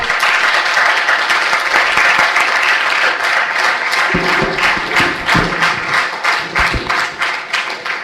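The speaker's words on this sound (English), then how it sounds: "all of us give an applause for Sushil sir" Sustained applause from an audience at an ideation bootcamp, steady dense clapping filling the whole stretch, with a few thuds near the end as it continues.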